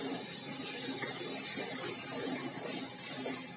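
Mustard seeds spluttering and crackling in hot oil at the start of a Bihari-style rohu fish curry, a steady dense hiss with small pops running throughout, close and fairly loud, with no one talking.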